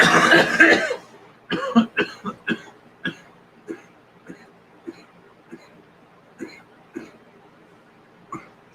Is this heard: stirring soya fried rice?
no